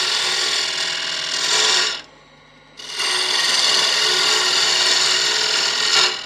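A wood lathe turns a small wooden box blank as it is shaped, giving a loud, steady broadband rasping hiss with a brief pause near the middle before the cutting resumes.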